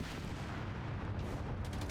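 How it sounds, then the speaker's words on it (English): In Company of Heroes 3 during a Sicily campaign battle, steady distant gunfire and artillery rumble as a dense, low, continuous battlefield din, fairly faint and without distinct single shots. "Is that gunfire I'm hearing?"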